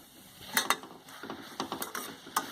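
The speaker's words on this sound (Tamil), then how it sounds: "காளான் போட்டுட்டு நல்லா வதக்கலாம்" Mushrooms being sautéed for mushroom biryani, with sparse clinks and scrapes of a ladle against the pan and a faint sizzle, quiet and close, no talking.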